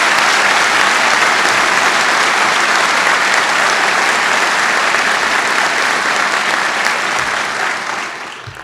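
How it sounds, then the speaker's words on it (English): Sustained loud audience applause at an NYPD swearing-in ceremony, a steady wash of many hands clapping that begins to fade in the final second. "Let's give them a round of applause."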